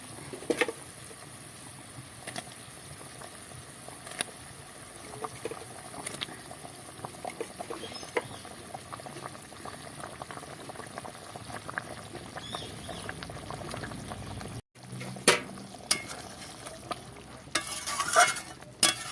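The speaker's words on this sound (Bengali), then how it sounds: "এবার আমি মাছগুলো ভেজে রাখা মাছগুলো দিয়ে দিচ্ছি" Fried pangas fish pieces dropping into a simmering fish curry, with a steady low bubbling and stirring patter throughout and a few louder clattering splashes near the end.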